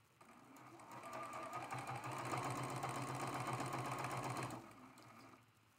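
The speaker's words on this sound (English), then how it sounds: "we're just going to sew these two seams first" A sewing machine runs steadily for about four seconds, stitching two seams of a traditional Tea Leaf quilt block, with a quiet start and stop at either end and no voices over the motor.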